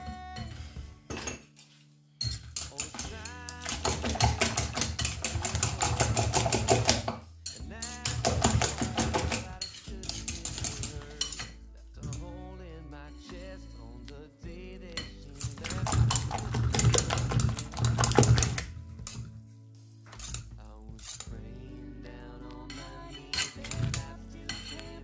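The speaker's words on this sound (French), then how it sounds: "Alors, je procède au mélange." Homemade hair mask mixture being stirred in a bowl, with busy clinking and scraping of a utensil against the bowl in dense bursts separated by brief pauses, close and fairly loud, with no talking.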